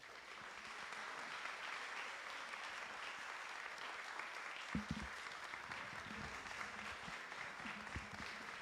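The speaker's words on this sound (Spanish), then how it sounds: "Bien fuerte, fuerte el aplauso" Audience applause in a city council chamber after a presentation by women mayors from Veracruz, sustained and fairly distant clapping lasting several seconds, with a few louder thumps and bumps partway through.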